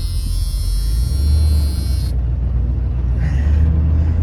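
An old ramp truck engine, recently fitted with a new fan clutch, idles steadily after restarting, a deep continuous rumble with a high whine that cuts out partway through.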